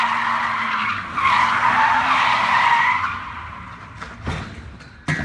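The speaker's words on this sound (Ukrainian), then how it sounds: "Це авто ідеально підходить для, наприклад, занять на дрифтах." BMW E46 with a large engine and rear-wheel drive drifting, tires skidding and squealing loudly and continuously for about three seconds, then fading, with brief bursts of engine and tire noise near the end.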